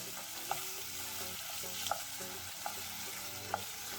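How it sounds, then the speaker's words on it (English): Beef and daikon radish sizzle and stir-fry in sesame oil in a pot, a steady close crackle with a few sharp scrapes of a utensil against the pot. "When it turns brown, add the daikon and keep frying it for about 3 minutes."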